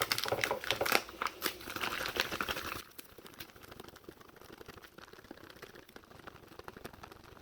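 A zippered MRE cold weather meal pouch is folded and crinkled by hand, loud crackling plastic bursts at first, then softer, quieter rustling and handling close up, with no talking.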